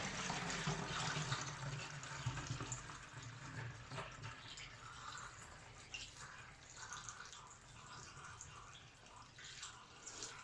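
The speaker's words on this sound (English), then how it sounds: "take your funnel, add the stabilizer into your bottle" Kodak Flexicolor C41-B stabilizer chemical poured through a funnel into a bottle, a steady soft trickle and gurgle of liquid lasting throughout, faint and close.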